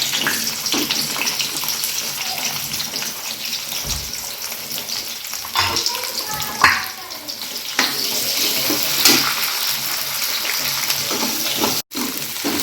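Onion, garlic, cumin and peanuts roast in a pan, giving a continuous sizzling hiss broken by occasional stirring scrapes and a few sharper knocks, with no talking.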